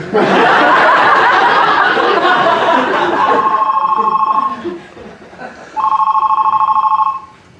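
A telephone rings in two bursts of bright repeated trilling, loud and close, starting under a loud earlier stretch of laughter and noise, then alone with a short gap between rings.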